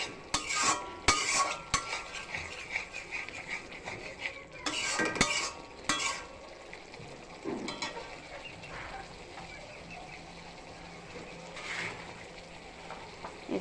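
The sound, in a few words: stirring and frying spice masala in a pan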